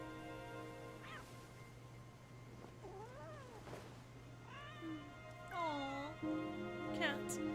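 A cat in the video game Wuthering Waves meows several times, rising and falling cries spread over a few seconds, with a steady background hum.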